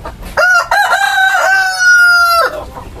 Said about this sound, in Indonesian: sebelah ini juga ayam Kobe, ayam kampung petelur. Ini ada satu jantan dan 6 betina.